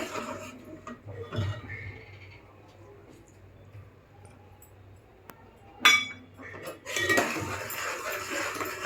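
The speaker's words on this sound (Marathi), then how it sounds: "साजूक तूप टाकून मस्त मिक्स करून घेऊया" Clinks and scrapes of a utensil in a pot as ghee is stirred into melted jaggery for sesame laddoos, with sharper metallic knocks near the end and a low background hum.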